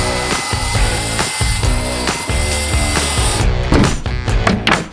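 A power saw cuts through plywood on a tiny cabin build, a loud, continuous grinding buzz that holds steady for several seconds before rougher, choppier bursts near the end.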